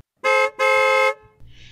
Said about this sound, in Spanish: Abajo, Stamets hizo sonar la bocina